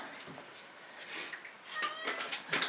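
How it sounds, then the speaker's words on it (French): A small cat meows several times nearby in a quiet autumn kitchen, the calls short, rising and fairly soft, coming in quick succession. "Un petit chat qui miaule."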